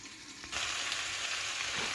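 Steady oily sizzling hisses from a pot of chicken feet simmering in curry oil. It rises in intensity partway through and continues as a continuous close frying crackle.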